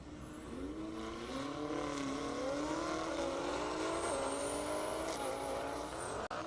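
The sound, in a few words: drag racing car run, BMW M8 Competition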